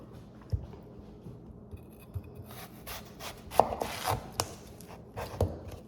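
A knife chops vegetables for a roasted tomato soup on a cutting board, with a few scattered taps first and then a denser cluster of sharp, close chops and scraping strokes, no voices over it.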